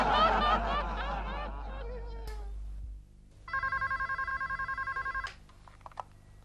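An old landline telephone rings once in a steady electronic trill lasting about two seconds, after a stretch of lively chatter and background music in a domestic sitcom scene.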